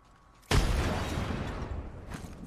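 A frag grenade goes off in a video game, one sudden close boom followed by a rumbling tail that lasts about two seconds, with no voices.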